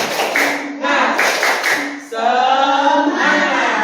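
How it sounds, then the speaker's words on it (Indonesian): A group of children in a classroom doing a rhythmic spirit clap, sharp claps in a patterned beat with voices chanting along, close and loud. "Tepuk semangat"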